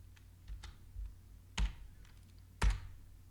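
Several keystrokes on a computer keyboard while entering a command, spaced irregularly: soft taps first, then two louder, sharper clacks, close and alone without talk.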